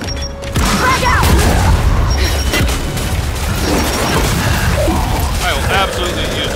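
A frag grenade explodes in the Gears of War 5 video game, a loud heavy boom followed by crashing debris and rumbling combat effects amid ongoing game noise.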